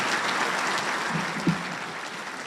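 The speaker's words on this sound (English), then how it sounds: "Just a round of applause" Audience applause at a Marine Corps Association installations and logistics awards dinner, a steady, diffuse wash of clapping from a large room with a single sharper thump midway.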